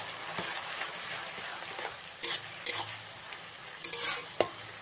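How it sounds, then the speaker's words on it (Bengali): Onion paste being fried with sugar in a pan for katla fish kalia, giving a soft steady sizzle with stirring scrapes and a few louder bursts of spatula clatter, close by. "খুব ভালো করে মিশিয়ে নিয়ে 2 থেকে 3 মিনিট ভালো করে ভেজে নিতে হবে।"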